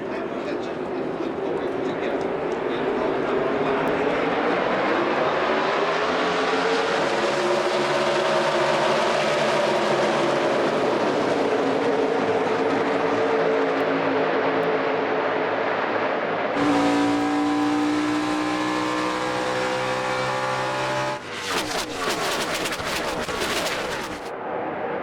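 NASCAR Sprint Cup race cars roar away at a restart at Chicagoland, a loud, swelling engine drone that rises in pitch and passes with sharp bursts near the end, while a commentator's voice is heard at times.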